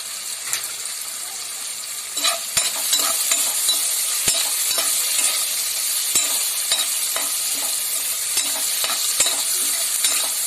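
Chopped onions with salt and curry leaves fry and get stirred in a pan: a steady, close sizzle broken by irregular sharp clicks and scrapes of the spoon against the metal, with no talking.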